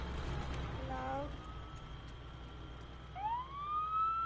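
A police car siren in the Arma 3 video game rises and wails as it passes close by after a car goes past, with people talking over it early on.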